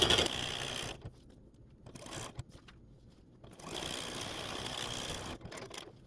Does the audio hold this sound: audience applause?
no